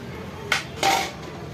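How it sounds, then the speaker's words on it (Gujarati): Dishes being washed at home, two clattering knocks of pots or utensils against each other, moderately near, over a low steady background hum. "ચાલો હવે હું વાસણ ધોઈ લઉં."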